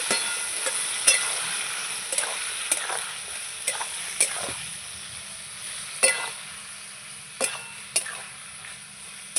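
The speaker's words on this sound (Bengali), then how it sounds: "একটু জল দিয়ে দিলাম এবার ভালো করে নাড়াচাড়া করে নেব" A spatula scrapes and knocks around a pan of fish curry masala loosened with a splash of water, giving repeated sharp clicks over a soft, continuous sizzle close by.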